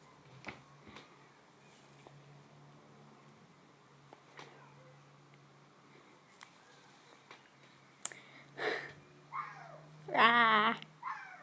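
A cat gives a few short meows and a longer strained cry near the end, fairly close but quiet, after a stretch of faint rustling and handling noises.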